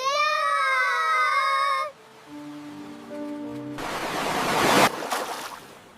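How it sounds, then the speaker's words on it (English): Open sea waves in an animated family story, one brief loud rush of surf that swells and breaks after a stretch of cartoon cries and tones, then fades away. "The sea is very big."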